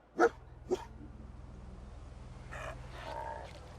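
Dogmeat, the dog companion in Fallout 4, gives two sharp barks, close and loud, followed by softer whimpering yips over a low game hum.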